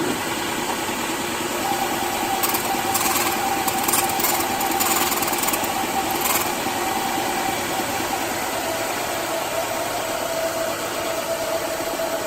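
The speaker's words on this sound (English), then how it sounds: "use a belt sander or a grinder and take a little bit off of the set of the teeth that are pointed outwards" A belt sander or grinder steadily grinds the outward-set teeth of a hole saw, a loud, continuous motor whine with a harsh grinding edge and brief gritty bursts of contact.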